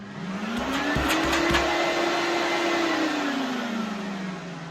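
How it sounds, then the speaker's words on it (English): A Vaportech Athena 8 plus steam cleaner vacuum runs at maximum suction setting A5, a steady rising whine that stays loud and continuous throughout, with a few brief clicks near the start. "So when we turn the vacuum on now,"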